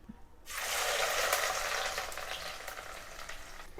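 A sudden loud sizzle erupts as chopped large onions hit hot oil, then settles into a steady crackling fry, close up with no talking.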